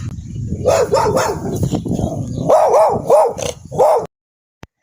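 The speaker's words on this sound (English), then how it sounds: "The neighbor dog definitely wasn't happy that I was in his area" A neighbor's dog barks close by in a rapid run of sharp, loud barks and yips mixed with a whine. It stops abruptly into silence, leaving a single tiny click.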